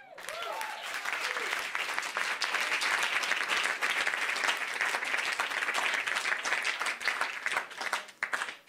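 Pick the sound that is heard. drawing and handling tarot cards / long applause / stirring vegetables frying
long applause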